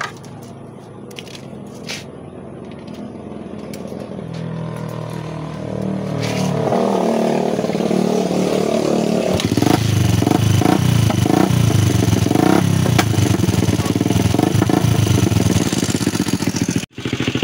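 A Bajaj Kawasaki CT100 motorcycle engine being tested after repair, starting as a low idle and then revving up loud and close, holding a rough, sustained roar with clattering texture before cutting off abruptly near the end.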